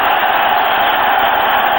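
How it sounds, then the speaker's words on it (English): Dense stadium crowd roar at an NFL game, Denver Broncos at New York Giants in 1998, a steady, loud, wide-band wash of voices with no break. "you hear the crowd finally kind of getting into the action"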